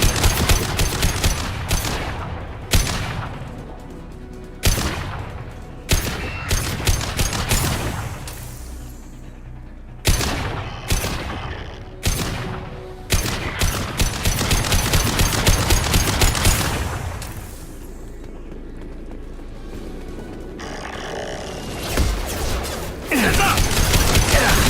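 Gunfire in the shooter video game Mass Effect, loud repeated bursts of automatic fire and single booming shots in a choppy rhythm, with brief pauses and a sustained rumbling stretch near the end.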